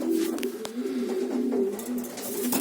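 Pigeons, a male and a female, coo close by in soft, repeated throaty phrases, with a few faint clicks and rustles around them.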